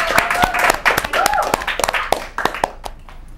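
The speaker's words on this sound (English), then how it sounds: "Let's give them a clap and cheer." Students at a school assembly clap, giving a dense burst of sharp, close hand claps that thins out over a few seconds with some voices mixed in.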